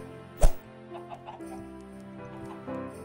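In a Christmas-themed video game, chickens cluck a few times over background music, following a sharp thump at the start.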